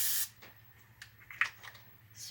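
Coconut oil sprays from a can into a small Pyrex dish in a short, loud hiss at the start, followed by faint clicks and light handling sounds and a second brief hiss at the end.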